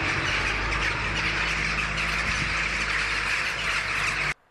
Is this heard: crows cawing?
yes